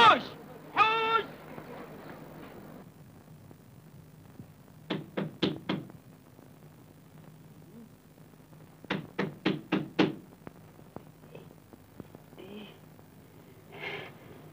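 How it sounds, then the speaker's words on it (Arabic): A door is knocked on in an Egyptian comedy film scene: two separate bursts of about five sharp, close knocks each, with brief voices and a faint background hum between them. "قوم افتح الباب يا راجل بيخبط"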